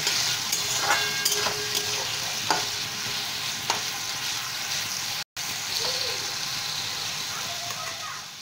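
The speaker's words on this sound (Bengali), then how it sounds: "আলুটা হালকা লাল লাল করে ভাজা হয়ে গেছে" Potatoes frying lightly in a pan for a mustard-paste dish with drumsticks, giving a continuous close sizzle with stirring scrapes and a brief break, and a faint voice in the background.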